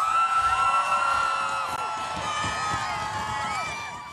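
A home crowd at the Red Bull Crashed Ice 2018 ice cross race in Saint Paul, Minnesota cheers and whoops steadily throughout, a dense, loud roar of many voices.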